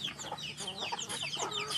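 Backyard chickens kept for eggs cluck softly nearby, a quiet, irregular run of short clucks and murmurs with no talking over them.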